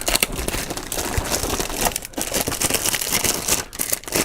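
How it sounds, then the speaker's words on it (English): Plastic and cardboard keyboard packaging crinkles and rustles loudly and continuously up close, with crackling handling noise and no speech. "Here's your keyboard. Let's open this up."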